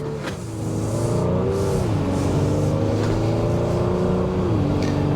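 A 2023 Honda Pilot Elite SUV with a naturally aspirated V6 accelerates on the road, its engine note climbing and dropping through gear shifts over steady road and tire noise, heard from inside the cabin.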